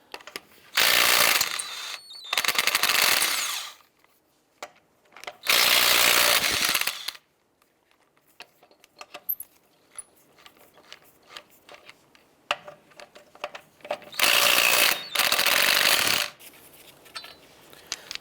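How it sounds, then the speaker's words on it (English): A 19mm socket on a power tool spins lug nuts off a 2003-2012 Chevrolet Colorado front wheel: several loud, multi-second ratcheting whirs separated by quieter clinks and handling noises, close by. "let's go ahead and remove the lug nuts."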